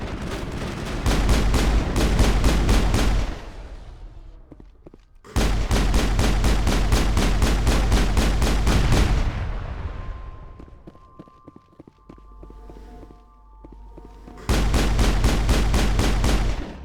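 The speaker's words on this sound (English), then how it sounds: "you gotta shoot those power junctions a lot" Sustained automatic gunfire in the video game Mass Effect, aimed at power junctions, in loud, dense bursts of about three to four seconds with brief quieter gaps between them.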